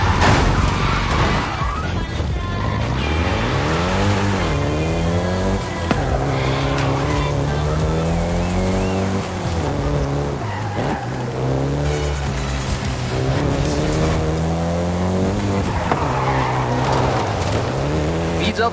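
Volkswagen Golf GTI engine driven in the racing game Forza Horizon 5, a continuous close engine drone whose pitch rises and falls with the revs for the whole stretch, with some tire noise mixed in.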